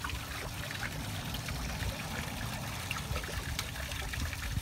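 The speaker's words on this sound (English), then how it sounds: "I'm giving it a bit of water, slowly." Water slowly dribbling in small trickles for a rescued baby turtle, a steady soft liquid trickle heard close up and alone, with no talking.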